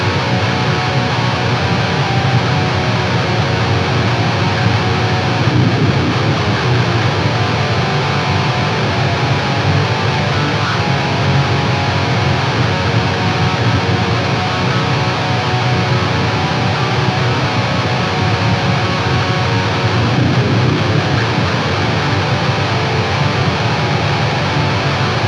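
A heavily distorted 8-string electric guitar with a swamp ash body and ebony fretboard chugs out dense, loud riffing that stays steady and sustained with no pauses and no talking.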